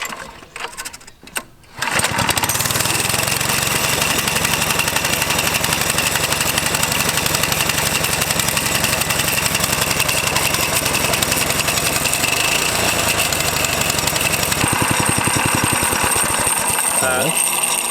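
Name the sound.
hybrid trike engine running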